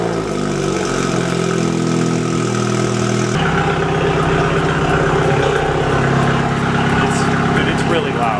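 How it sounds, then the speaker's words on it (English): A loud car engine on cold start after a Bootmod3 stage 2 flash tune, idling with a heavy, droning exhaust note that shifts to a different steady pitch partway through, with no talk over it. "This car is super loud. Super, super loud on cold start."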